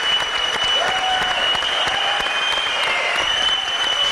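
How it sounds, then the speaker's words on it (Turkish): Studio audience on a television show gives Alex de Souza a loud, sustained round of applause, thick continuous clapping with a faint tone running beneath. "en büyük alkış Alex'e"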